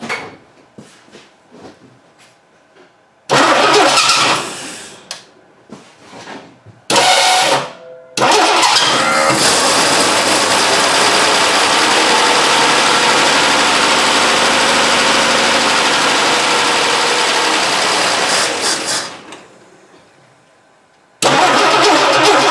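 A Dodge Dart stored for over ten years cranks and fires several times in short bursts, then catches and runs steadily for about ten seconds, loud and close, before dying and restarting.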